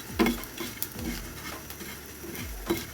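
Leftover rice frying in a little oil in a pan, with a faint sizzle broken by several scraping stirs and light clanks of a utensil, close and without speech.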